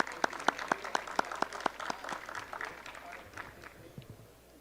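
A small audience briefly claps for the minister at a labor-court panel, a handful of sharp, distinct claps in a loose rhythm that soon thins out and fades under low room noise.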